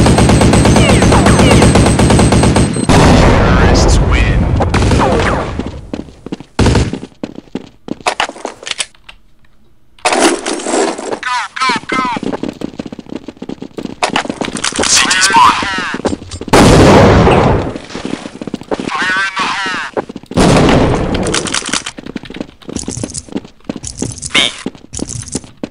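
Gunfire from Counter-Strike 1.6 crackles in loud bursts of rapid shots, broken by short silences and clicks of weapon handling. A voice briefly speaks between the shots.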